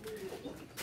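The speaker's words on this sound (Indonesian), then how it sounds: "ini ada merpati putih yang mau lepas" A white racing pigeon coos softly in a couple of faint, short throaty phrases, close but quiet.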